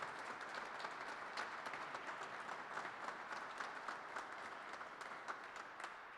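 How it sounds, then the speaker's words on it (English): An audience at a public works and engineering event in Frankfort, Kentucky, applauds with steady, dense clapping that holds evenly throughout and sounds somewhat distant. "Let's give them a round of applause for everything they do."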